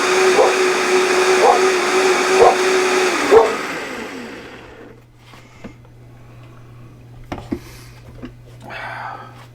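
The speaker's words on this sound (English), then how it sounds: "I'm going to throw this thing in a blender." A kitchen blender blending tomatoes for canning gives a loud, steady motor whir with a few pulsing surges. It cuts off after a few seconds, leaving quiet clatter and faint knocks.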